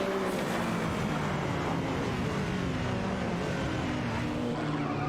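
AI-driven race cars roar around the track in a racing video game, engines droning and revving in a constant, loud wash with tones sliding as cars pass.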